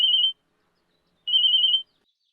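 Two electronic ringing bursts at a steady high pitch, separated by a pause, sound like a phone ringer going off nearby with no talking.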